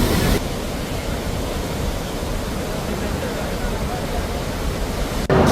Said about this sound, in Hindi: जिस तरीके से वाटरफॉल में जो ये पानी के मचलने की आवाज़ है वो लोगों को